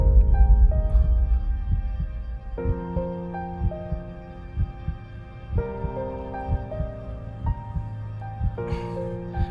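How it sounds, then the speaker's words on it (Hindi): Fast heartbeat sound effect in a vampire action film, regular pulsing thumps throbbing under a sustained musical drone, with no talk. "तुम्हारी धड़कन बहुत तेज है"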